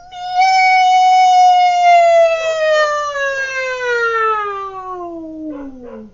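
A human voice imitates a cat's meow as a Peking opera vocal exercise: one long sustained, harmonically rich wail that starts high and slides steadily downward over about six seconds, loud and close, with no talk.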